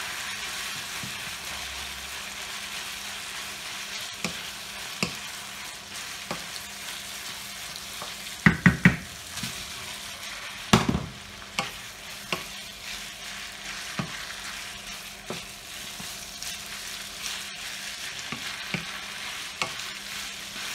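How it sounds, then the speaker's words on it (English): Bolognese mince sauce frying in a pan, a continuous sizzle with occasional spoon scrapes and knocks as it is stirred gently, close and alone for about twenty seconds. "Stir this up nice and gently."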